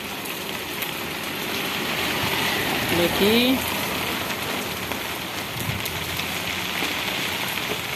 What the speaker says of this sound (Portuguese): E aqui que Xeramobim está passando uma chuvazinha.